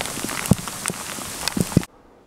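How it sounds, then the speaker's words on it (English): Hail pelting down during a mountain storm on a trail in the Wind River Range, a dense patter of small hits with a few sharper louder impacts, cutting off abruptly near the end. "And it's hailing again."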